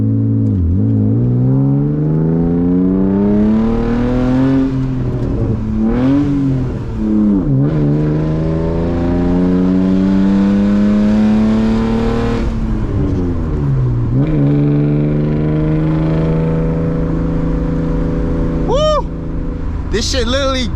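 Muffler-deleted BMW E36 328i with a manual gearbox roaring loudly through repeated acceleration pulls, the raw exhaust note climbing in pitch and dropping at each gear change, with a voice talking over it.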